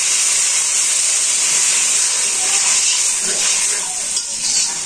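Dul shak greens cooking in a pan in a village kitchen, stirred by hand, giving a loud continuous sizzle and hiss with faint scraping movements underneath.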